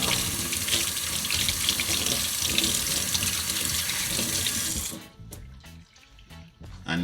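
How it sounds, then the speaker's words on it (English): Tap water runs steadily into a sink as fresh thyme is washed under it for a Jamaican saltfish dish, a loud continuous splash for several seconds before the flow stops and leaves scattered drips and handling sounds. "so make sure you wash off the thyme"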